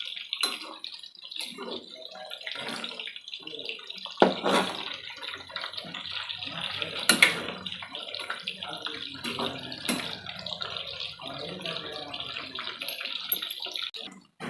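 Chicken kebab pieces deep-fry in hot oil with a continuous crackling, bubbling sizzle and scattered louder pops and scrapes, steady and close throughout.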